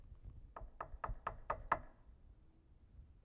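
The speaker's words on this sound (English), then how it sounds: "Knock at the door." Six sharp knocks on a door in a quick, even sequence, fairly close and clear, then a short pause with faint room noise.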